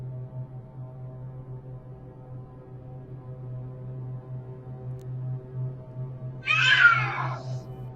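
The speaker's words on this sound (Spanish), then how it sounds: "Sabemos cómo los gatos pueden ser ruidosos en sus peleas nocturnas." Cats fighting outdoors at night, heard as one brief, loud yowling screech near the end, rising over a steady low hum with nothing else happening before it.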